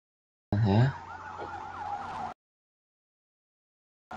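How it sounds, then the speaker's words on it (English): Police sirens wail in the background of The Last of Us, a rising and falling electronic tone heard for about two seconds over a low rumble, then cutting out abruptly to silence. "police sirens in the background"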